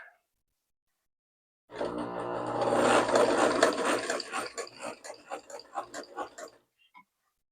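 A 1974 Kenmore sewing machine runs a zigzag stitch, starting abruptly after silence with a loud, dense mechanical whir that breaks into distinct, rapid rhythmic clacks as it slows, then stops.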